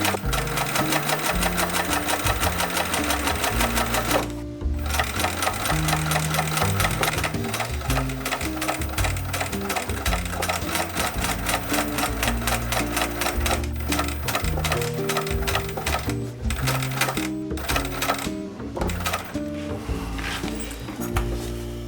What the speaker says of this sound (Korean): 지퍼는 튼튼하게 이중박음질로 완성.